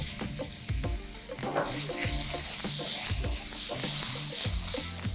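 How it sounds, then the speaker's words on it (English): Meatballs and onion fry in a very hot pan. A loud, continuous sizzle runs throughout, with repeated clanks and scrapes from stirring close by. "So now that our meatballs are looking good, we can go in with our onion."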